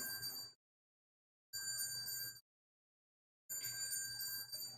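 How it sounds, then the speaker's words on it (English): A small bell rings three separate times, each bright ring lasting under a second, with silent gaps of about a second between them. "Now 3 bells."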